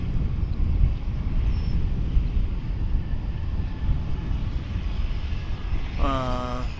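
A Delta Airbus A319 airliner at DFW Airport gives a steady broad roar heard from a distance, mixed with wind noise on the microphone, ending in a brief tonal whine.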